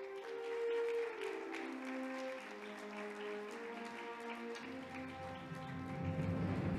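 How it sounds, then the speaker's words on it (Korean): Applause at the PBA Golden Cue Awards billiards ceremony, as a presenter is welcomed for the rookie award, rising as a soft, dense patter beneath sustained music tones. "박수로 모시겠습니다"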